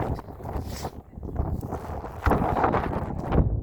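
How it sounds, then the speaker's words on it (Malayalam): Gusty wind buffets and rumbles close to the microphone, swelling and easing in uneven waves. "നല്ല കാറ്റ്, നല്ല കാറ്റ്."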